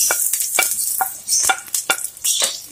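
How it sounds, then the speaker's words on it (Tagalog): Onions sautéing in a pan with stirring, a steady sizzle of frying broken by repeated short scrapes of a utensil against the pan, close and fairly loud, with no voices. "Lutuin lang din natin ang ating sibuyas para bumango siya"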